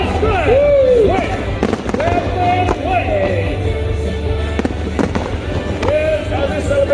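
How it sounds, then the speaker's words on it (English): Fireworks bursting at a Chingay celebration, a Chinese New Year street parade, with sharp cracks and booms over a steady crowd roar and loud whistling, while people talk and cheer close by. "Yeah, fireworks tonight."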